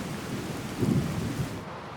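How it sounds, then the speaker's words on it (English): Rain and thunder from the Magnum Opus weather system in Fallout 4: a steady hiss of rainfall with a deep thunder rumble swelling through the middle, then easing off. "my personal favourite, when it's raining"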